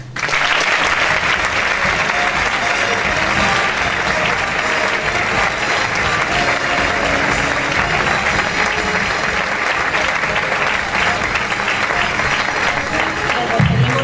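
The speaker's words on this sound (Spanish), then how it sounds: "Aplauso." A hall audience at a tribute ceremony for a comparsa de cristianos gives loud, sustained applause, dense and unbroken from start to finish with no talk over it.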